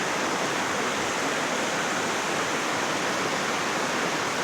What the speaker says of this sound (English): the trails brought me back to the Snoqualmie River.